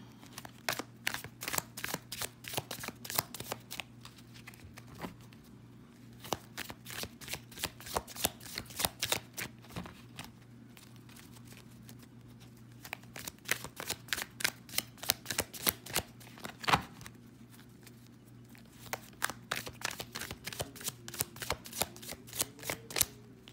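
Tarot cards being shuffled and drawn, repeated quick riffling bursts in close, fairly quiet bunches with short pauses between, no voices.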